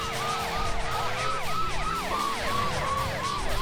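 Police car siren in the Driver 2 video game set on Chicago streets, a loud repeating wail cycling steadily over engine rumble, close and continuous throughout.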